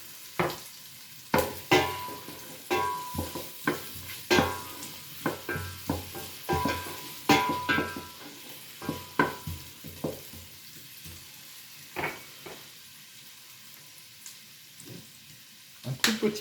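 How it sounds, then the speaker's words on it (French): Shallots and celery sizzle in a pan while a utensil stirs them in quick irregular scrapes and taps, close and fairly loud against a soft steady frying hiss, with no talking. "On va faire transpirer un petit peu les échalotes."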